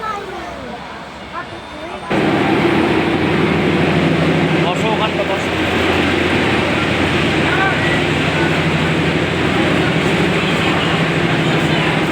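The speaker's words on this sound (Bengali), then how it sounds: "এই যে এবার আমাদের যাওয়ার ট্রেনও এসে গেছে। ট্রেন ঢুকছে প্ল্যাটফর্মে।" A train pulls into a railway station platform, its steady loud rumble and rattle beginning abruptly and continuing throughout, with faint crowd voices underneath.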